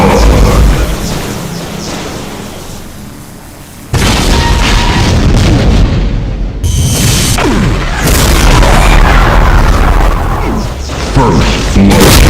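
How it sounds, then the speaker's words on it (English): Demon Tech Devastator shots exploding in a Doom mod video game, a fading rumble followed by a loud, sustained volley of booming blasts and crashing debris that continues to the end. "and Demon Tech Devastator shots."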